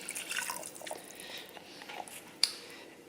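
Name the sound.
water being added to cooked onions for French onion soup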